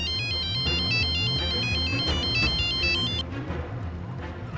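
A phone ringtone plays after a call is placed, a repeating electronic melody over a pulsing low beat, loud and close, cutting off near the end.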